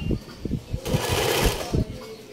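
A sewing machine runs in short stitching bursts, then a longer continuous whir, close by, with a few brief pauses between runs.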